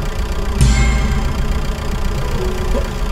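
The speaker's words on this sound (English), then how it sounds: "This is a tractor. It's an enormous machine that tills the earth." Tractor engine in The Stanley Parable: Ultra Deluxe, a loud steady idling rumble that starts abruptly with a sharp onset, then runs evenly with a faint brief ding near the end.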